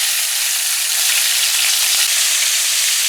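Butterfish fry in a pan with a loud, close, continuous hiss of sizzling oil that holds steady, with faint crackles and light stirring underneath.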